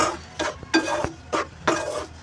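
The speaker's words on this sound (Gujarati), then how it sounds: "થોડીક વાર આ પેન ગરમ હોય ત્યાં સુધી આપણે એને હલાવવાનું." Spoon stirring a ginger sweet mixture in a hot pan, four or five distinct scraping strokes in a steady rhythm, close and clear with no talk.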